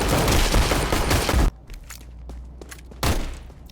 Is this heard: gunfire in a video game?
yes